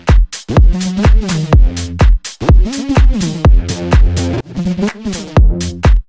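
A punchy electronic synth pattern plays with a delay effect left running throughout, echoes trailing every chord and filling the gaps; loud and continuous, with no talking.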